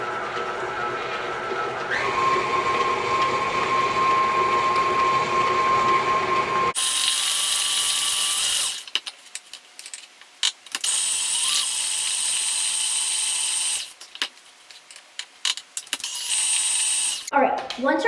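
Stand mixer with a paddle attachment beating cream cheese and sugar: a steady motor whine runs first, then harsher rattling and clattering bursts of mixing start and stop between quiet gaps.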